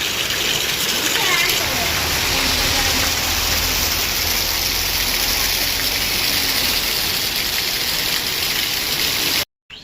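Rainwater rushes loudly and steadily after two hours of heavy rain, a broad continuous gush that cuts off abruptly at the end.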